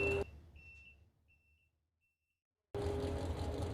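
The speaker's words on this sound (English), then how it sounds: "I don't know if you hear the beep beep in the background." Thin electronic beeps from the eighth-mile marker at a drag strip, a short series of faint tones spaced apart between loud bursts of race-car engine roar, with a near-silent gap in the middle.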